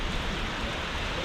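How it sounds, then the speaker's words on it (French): Rain falling in Annecy, a short, even hiss of steady rainfall without voices. "on est un petit peu bloqué sous la pluie, on attend que ça se calme"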